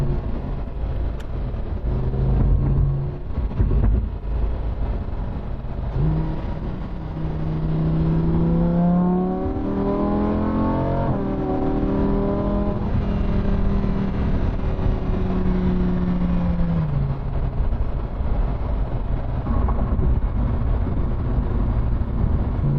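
A 2015 Lamborghini Huracan sports car drives by, its engine rising through revs in a climbing, whining roar that swells in the middle and then settles back to a steady drone, with no talking.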